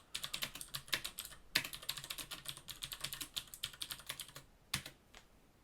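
Someone types a prompt on a computer keyboard in a quick, even run of quiet keystrokes, pauses briefly, then lands one last firm key press.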